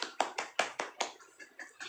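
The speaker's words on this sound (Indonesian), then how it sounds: "Kita kasih tepuk tangan yang meriah untuk teman kalian." A handful of sharp hand claps in a classroom, a few separate slaps spaced irregularly, fairly close and moderate in volume, thinning out toward the end rather than building into full applause.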